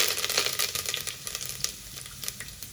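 Curry leaves sizzling in hot oil with black pepper and cumin, a close, bright crackling spatter with quick pops, loudest at first and settling gradually, no talking.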